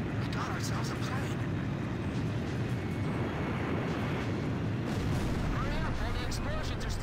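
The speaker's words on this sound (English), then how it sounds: "Explosions are still masking our noise." Explosions and artillery-like blasts rumble through a combat scene in the video game Ace Combat 5: The Unsung War, a dense, continuous roar of booms and crackling gunfire with faint aircraft noise and occasional game voices mixed in.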